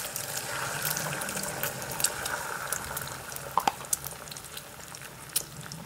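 Steady bubbling and sizzling of eggs cooking in a pan, with a few sharp pops and crackles scattered throughout.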